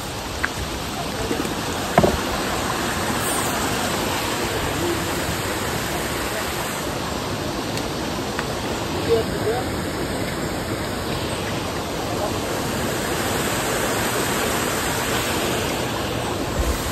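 Small river with water flowing steadily, a continuous hissing rush close by, with a couple of brief knocks or splashes; no talking heard over the water.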